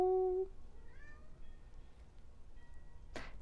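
A cat meows clearly and close by, then after a quiet stretch a second, harsher meow breaks out at the very end.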